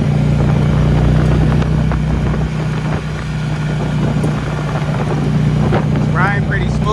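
A Harley motorcycle bought as a Copart salvage write-off, ridden at a steady cruise, with a continuous loud low engine drone mixed with heavy wind rush past the microphone and a voice partly buried under it.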